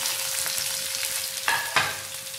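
Chopped onions with green chillies sauté in a pan for semiya biryani, a soft continuous sizzle with a couple of sharper scrapes of a spatula stirring near the end.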